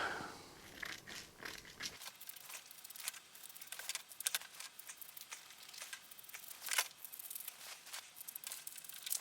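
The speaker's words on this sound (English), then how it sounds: "Cut the pattern out." Quiet rustling and crinkling of paper as a pattern is cut out for covering a 1983 Range Rover two-door cubby box in leather, with scattered soft snips and crackles close by.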